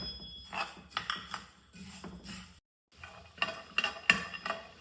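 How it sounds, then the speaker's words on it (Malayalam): Sesame seeds being dry-roasted and stirred in a pan at home, heard as close, irregular scraping and light clinking of a utensil against the metal pan in short bursts, with a brief silent gap midway. "ആദ്യമായിട്ട് ഞാൻ ഈ എള്ളൊന്ന് വറുത്തെടുക്കുന്നുണ്ട്."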